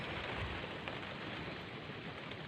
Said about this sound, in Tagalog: Ulan na may dalang hangin.